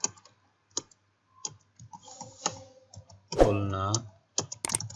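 Computer keyboard typing in a spreadsheet data-entry task, heard as scattered, fairly close key clicks in short bursts, with someone speaking intermittently between and over the keystrokes.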